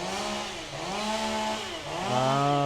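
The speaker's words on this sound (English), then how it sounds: "Leaf blowers. At the bane of our existence." A leaf blower whines outdoors with a loud, steady motor tone that rises and falls as the throttle shifts, running alone without talk.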